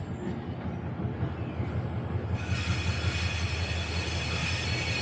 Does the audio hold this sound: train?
yes